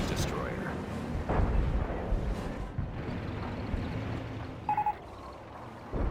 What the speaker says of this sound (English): Hummel barrage in